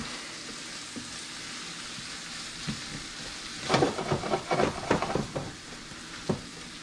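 Vegetables sweat in a pan over residual stove heat, a low steady sizzle that swells into a busy cluster of spoon scrapes and stirring clatters midway before settling back, close-up with no voices.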